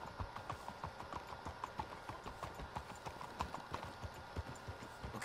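Horse hooves in Red Dead Redemption 2 clip-clop in a steady, quick rhythm on a hard surface, moderately close, over a constant background hiss.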